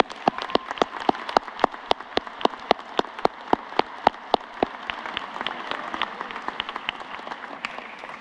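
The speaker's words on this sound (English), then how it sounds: "So let's take a moment and give those people a round of applause." Graduation crowd at a high school commencement giving a round of applause, a dense steady wash of clapping with some sharp close claps standing out in a regular beat, sustained for several seconds.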